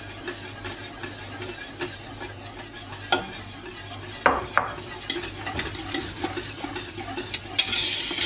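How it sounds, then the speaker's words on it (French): Butter being stirred into waffle batter for maroilles waffles, a steady wet mixing and scraping of a utensil against the bowl with occasional sharper clicks, close and continuous. "Donc le beurre, tu vois, on le mélange comme ça."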